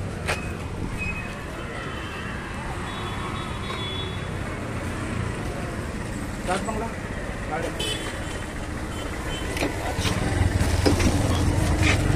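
An auto rickshaw pulls up on a busy street, its engine rumbling closer amid traffic noise and occasional horn toots. People talk nearby.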